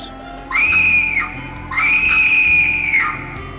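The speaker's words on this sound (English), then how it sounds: "if I heard a big scream" A loud, sustained scream from the horror video game The 7th Guest comes in two long rising-and-falling wails with a short pause between them.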